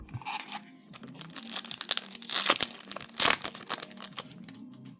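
Crinkly plastic of Yu-Gi-Oh booster pack wrappers being torn open and crumpled by hand, a close, continuous rustle with sharper tearing bursts, no talking.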